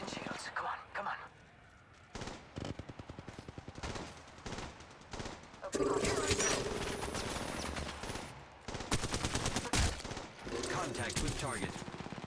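Gunfire bursts in the mobile battle royale game Apex Legends Mobile, repeated rapid shots growing louder and denser toward the end, mixed with game sounds and voice lines.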